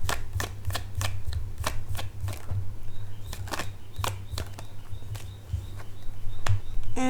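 Tarot cards shuffled by hand, a run of crisp, rapid snapping riffles and slaps close to the microphone, coming in irregular bursts over a low steady hum, without speech.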